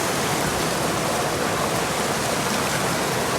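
Steady rushing water pours through a gold-prospecting sluice box set in a creek, a dense, continuous wash of splashing flow close by with no voices over it.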